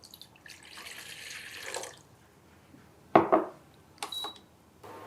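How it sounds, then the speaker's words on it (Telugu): Water poured into a glass for homemade fennel tea, a steady splashy stream running for about two seconds, followed by a few sharp clinks and short knocks of glass near the microphone. "దీన్ని ఒక గ్లాస్ వాటర్ వేసుకోవాలి"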